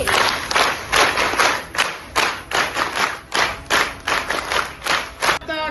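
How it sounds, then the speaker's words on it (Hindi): A crowd at an outdoor honour ceremony for Mitanin health workers claps in rhythmic unison, loud sharp beats in a regular pulse that runs throughout. "ताली से जोरदार भव्य स्वागत करबो मितानी ताली"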